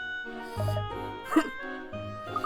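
A dog barks and whimpers in a video game, short yips and a low woof spread over a couple of seconds amid tonal game music, fairly close and moderately loud.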